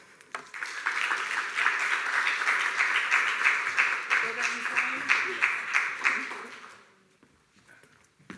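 Audience applause at a digital conference summit in Prague, a dense sustained round of clapping from a crowd that swells, holds for several seconds, then fades out.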